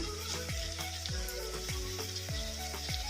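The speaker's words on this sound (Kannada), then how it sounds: "ಉಳ್ಳಾಗಡ್ಡೆ ಸ್ವಲ್ಪ ಫ್ರೈ ಆಗೋವರೆಗೂ ಕಲಸ್ಕೊಂತ ಫ್ರೈ ಮಾಡೋಣ" Chopped onion, a large one, frying in a pan over medium flame while being stirred: a steady loud sizzle runs throughout, broken by regular scraping strokes of the spoon about every half second, with no voices.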